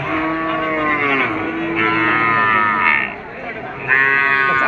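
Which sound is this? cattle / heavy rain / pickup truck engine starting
cattle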